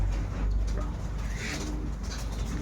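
Pet pigeons coo softly a few times, fairly faint against a low background rumble, with no talking.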